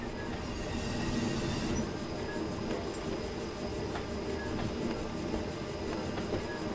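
Steady metallic wheel flange squeal from a Y1 Sentinel railcar in Train Sim World, a continuous high whine over constant rolling rumble and track noise, fairly loud with no break.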